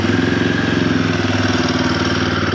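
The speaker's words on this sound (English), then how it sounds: "But then to start the bike, you rock the switch this way." Royal Enfield Guerrilla 450 motorcycle with stock exhaust idling close by, a steady rhythmic thumping single-cylinder putter with even pulses throughout.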